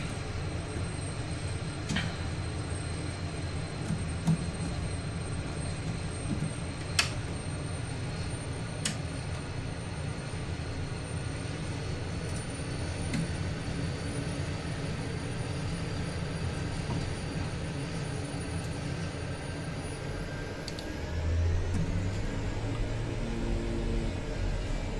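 Twin Otter aircraft in Microsoft Flight Simulator 2024 with its engines droning in a steady, loud, continuous roar, holding even for a long stretch before the pitch and rumble shift near the end.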